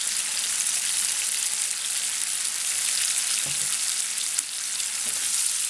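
Tomatoes with added salt frying in a pan for a restaurant-style chicken karahi, giving a steady, loud, close sizzle throughout with a couple of faint stirring clicks and no talking.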